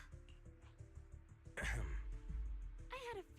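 A character in the Zenless Zone Zero video game lets out one short, nervous cough amid soft ticking game sounds, and a voice follows the cough.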